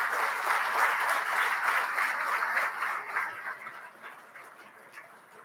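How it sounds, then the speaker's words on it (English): An awards-banquet audience at the BC Hockey Awards gives a dense, sustained round of applause that holds strong, then gradually thins and fades out. "Give it a nice round of applause for that."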